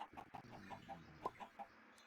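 Chickens cluck in a Minecraft modpack farm pen, a series of short, evenly spaced clucks repeating about every quarter second, fairly faint and alone without talk.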